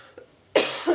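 A single sharp cough from a person close by, preceded by a faint throat noise and followed by a brief second burst, with no talking.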